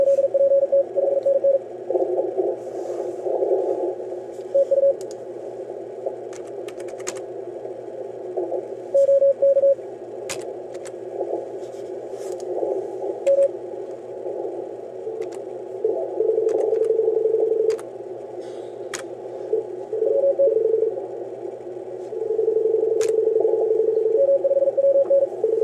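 On a busy amateur radio DX pileup frequency, deliberate interference cuts in as loud intermittent tones and keyed carriers over a steady hum, with no speech.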